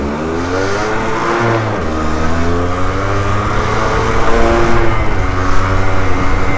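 A Suzuki GP100 motorcycle engine revs on its first road ride, a close, loud buzzing two-stroke note climbing in pitch, dipping briefly, then rising again through repeated accelerations.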